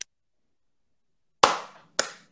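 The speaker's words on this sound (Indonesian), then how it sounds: "Kalau Koko bilang sore, semuanya tepuk tangan 3 kali" Sharp, sudden hand claps from a group in a room, heard as two loud close bursts after a brief clipped sound at the start, with silence in between and no talking.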